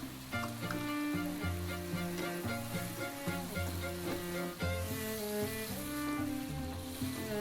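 Colorful mixed vegetables with wood ear mushrooms stir-fried in a hot pan for a vegetarian dish, giving a steady sizzle with light stirring under continuous background music.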